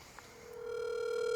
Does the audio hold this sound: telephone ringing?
yes